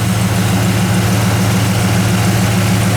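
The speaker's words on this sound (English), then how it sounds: "Listen to that thing idle too." A 1972 Buick GS convertible engine idles steadily with a deep, even rumble, loud and close and unbroken throughout.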